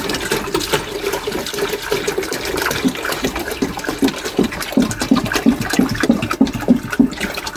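A household toilet flushing close by, a continuous rushing swirl of water with gurgling pulses that grow toward the end, no voices.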